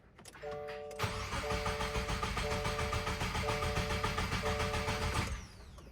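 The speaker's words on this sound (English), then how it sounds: "you hit start, and it should crank without putting spark and fuel" The engine of a 2022 Subaru WRX Limited cranks over without spark or fuel, a rapid rhythmic starter churn that runs steadily for several seconds, close and moderately loud, then cuts off.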